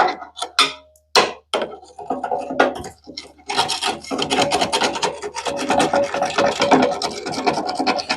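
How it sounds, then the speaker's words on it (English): Fine sand, silt and grit being scraped out of a rusted Land Rover Defender TD5 chassis: a few sharp rasping strokes, then a steady, close, gritty scraping that continues without pause. "just satisfying getting all this sand out of my chassis"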